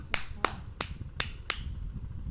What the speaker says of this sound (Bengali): সবাই একটা হাততালি দাও।